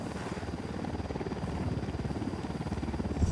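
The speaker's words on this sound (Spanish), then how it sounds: "Ojo, un helicóptero" A helicopter flies in Tom Clancy's Ghost Recon Wildlands, its rotor throbbing in a fast, even pulse with a loud, constant presence throughout.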